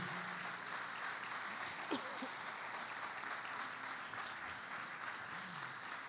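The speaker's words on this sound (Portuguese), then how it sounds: "Aplauda ao Senhor." A church congregation applauds, a steady dense wash of many hands clapping throughout, sounding from across a large room.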